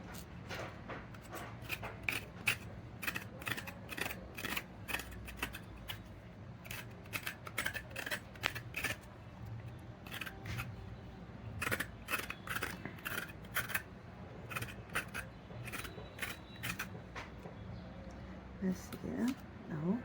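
Turnips are peeled with a knife while preparing Egyptian-style pickles, producing repeated short scraping strokes in irregular clusters close by, interspersed with talking.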